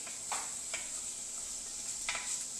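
Faint, steady sizzling of food frying in a pan for risotto, with a few soft scraping stirs.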